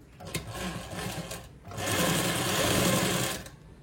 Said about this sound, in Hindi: फिर यहाँ से हमें सिलाई लगाते जाना है।